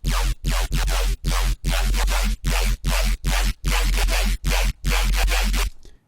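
Aggressive Serum synth bass with oscillator B's FM turned up, a gritty buzzing tone played in a choppy rhythm of about a dozen short, loud bursts separated by sharp gaps, ending in a brief tail.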